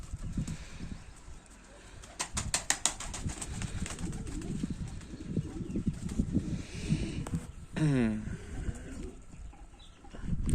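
Young pigeon chicks coo close by in a loft, with soft repeated cooing calls and wing flutters, plus occasional clattering and scratching throughout.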